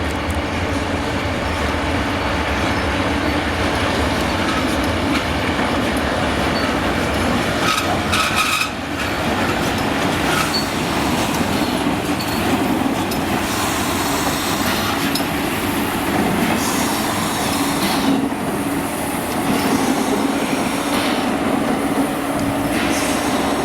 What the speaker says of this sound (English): At Sturovo, the locomotive made a rapid run round the train.